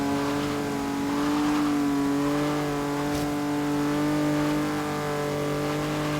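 A slow car's engine accelerates in a Forza Horizon Hot Wheels racing game, a loud, steady droning tone rising gradually in pitch as it gains speed.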